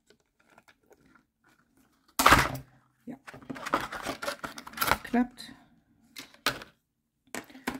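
Thick scissors cut into plastic packaging, giving a run of crunchy snips, clicks and rustles close by, with a brief spoken remark in between.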